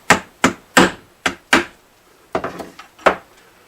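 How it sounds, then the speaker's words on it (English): Sharp wooden knocks from hitting a brace inside an acoustic guitar during repair: about eight close, dry taps in an irregular rhythm, each decaying quickly, with a short cluster of lighter raps near the end. "I'm afraid to hit it much harder than that."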